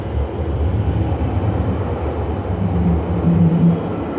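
A rumbling London Underground train near the Northern Line, steady low drone and rattle throughout, close by, swelling slightly near the end; no voices.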